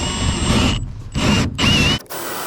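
A power drill bores a single hole through a hollow trailer wall with only about two inches of empty space inside, heard as three loud close bursts of whining motor and grinding bit separated by short pauses.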